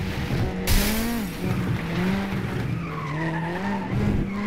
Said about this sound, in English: So let's just try and destroy Sophia, just to refresh ourselves a bit. And maybe crash ourselves along the way